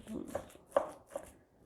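Ingredients for a homemade cold and cough remedy being chopped by hand, with three soft knife strikes on a board, close and quiet.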